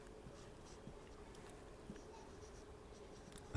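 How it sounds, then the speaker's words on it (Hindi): Pen scratching on paper while working through a math problem: quiet, steady writing strokes with small taps throughout, close and soft against a hushed room. "इसको ऐसे लिखेंगे,"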